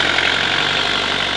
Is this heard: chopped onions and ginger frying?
no